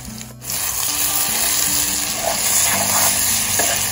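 Tomatoes go into a hot pan with taro stems and smoked meat, setting off a steady loud sizzle and crackle of frying that continues after a brief quiet start.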